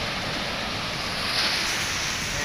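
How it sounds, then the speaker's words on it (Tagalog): Strong ocean waves breaking against the rocky shore at Patar, Bolinao, Pangasinan: a steady, loud wash of surf with wind noise, swelling slightly midway, with no voices. "Malakas yung alon."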